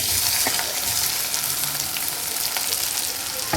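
Onion fries in a pan with chopped beetroot, giving a dense, loud, continuous sizzle with occasional crackles and stirring ticks, and no voices.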